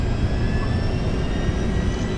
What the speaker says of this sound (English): All I'm going to do here is stick on the APU.